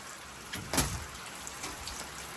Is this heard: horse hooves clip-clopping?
no